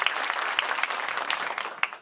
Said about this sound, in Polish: brawo właśnie dla Błażeja